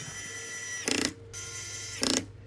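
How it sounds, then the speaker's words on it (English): Two short, crisp ratcheting bursts from a small screwdriver driving screws back into the bottom of a Samsung Galaxy S25 FE phone during a screen repair, spaced about a second apart over a faint steady background hum. "Moving down to the bottom, we're going to get those screws back in as well."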